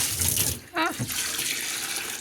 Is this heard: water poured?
yes